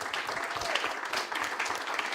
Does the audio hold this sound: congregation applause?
yes